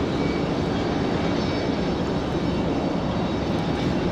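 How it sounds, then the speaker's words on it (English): A passenger jet taxis at Raleigh-Durham International Airport before departing for Atlanta. Its engines give a steady, loud, broadband roar that holds unchanged throughout, with no other sounds. "This aircraft getting ready to head back to Atlanta, Georgia."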